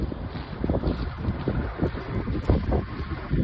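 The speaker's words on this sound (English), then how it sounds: "Apologies if it's windy." Gusty wind buffets the microphone in uneven low rumbling bursts, loud and close, with no voices.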